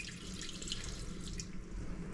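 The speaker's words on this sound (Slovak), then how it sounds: "Takže lejeme 150 gramov vody." Water poured into a Thermomix bowl makes a steady, soft hiss and trickle, continuous and faint throughout, with no speech.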